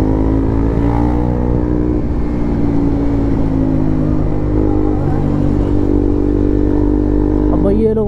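Motorcycle ridden fast through city traffic, a loud continuous engine drone with shifting pitch and wind rush, other vehicles around, and a voice speaking over the ride.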